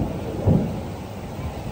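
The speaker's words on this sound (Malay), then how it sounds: "Sini Melaka hujan." A low rumble of thunder rolls briefly over a steady hiss of falling rain in Melaka.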